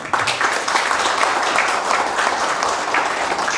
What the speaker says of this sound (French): Et ça aussi, ça s'applaudit.